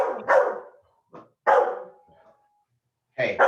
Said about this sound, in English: your dog is upsetting my dog now